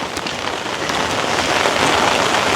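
Heavy rain pattering steadily and close on surfaces in a rural village, heard while walking home carrying things, a dense continuous patter with no speech.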